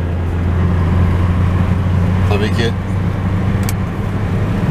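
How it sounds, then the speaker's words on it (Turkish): Inside an old Mercedes car driving on an open road, a steady low engine and road hum drones throughout while someone speaks briefly over it. "Babamın eski Mercedes'iyle."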